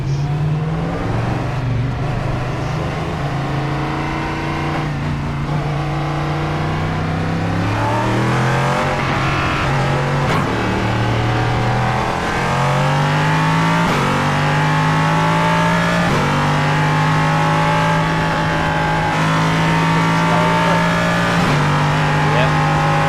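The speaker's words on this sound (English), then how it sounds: "They've all raced out of the pits." Race cars pull out of the pits in the iRacing sim game, their engines droning loudly and steadily, with repeated revs rising and dropping as the cars shift through the gears.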